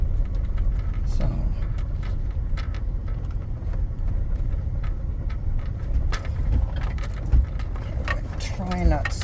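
A car rolls slowly along a dirt road near Chloride, Arizona, with a constant low rumble and scattered crunches and bumps from the rough surface.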